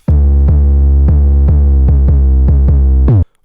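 Run of heavy 808 bass hits in an FL Studio hard rock beat, about eight booming notes in a steady accelerating pattern with a final quick double hit before cutting off, loud and alone.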